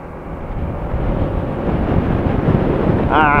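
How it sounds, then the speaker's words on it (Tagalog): Strong wind at the Pacific View Deck in Dingalan roars and buffets loudly across the microphone, a continuous rumbling gust that builds, with a brief voice at the end. "Oh, lakas ng hangin."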